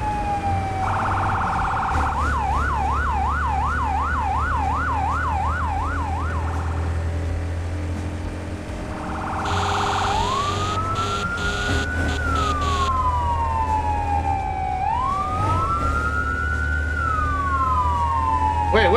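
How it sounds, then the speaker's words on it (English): Fire truck sirens in the video game Firefighting Simulator: The Squad wail and yelp repeatedly, first a rapid warble, then long rising-and-falling sweeps, over engine rumble with occasional voices. "I didn't have my siren on."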